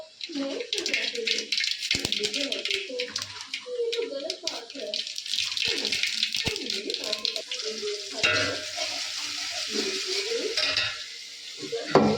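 Spluttering sizzle of mustard seeds and cumin tempering in hot oil for dal, a steady crackling hiss throughout with a voice talking over it.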